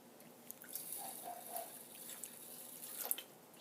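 Water poured from a tap into a pan of uncooked brown rice, a soft running trickle with scattered drips and splashes, fairly close and alone.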